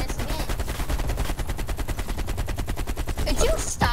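Rapid automatic gunfire from the video game Black Ops Cold War, a loud, continuous stream of close shots lasting several seconds before breaking off.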